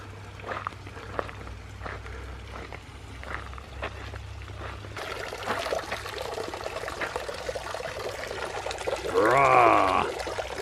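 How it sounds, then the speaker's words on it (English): A garden fountain spitting water, heard as a steady nearby splash and rush that grows louder and fuller partway through, with a brief voice over the water near the end. "this one's spitting water everywhere"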